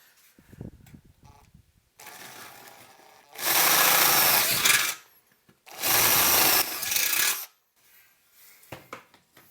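A power drill bores a hole through a tube amplifier chassis: a quieter scraping start, then two loud, sustained grinding bursts of about a second and a half each, separated by a short pause, with no talk.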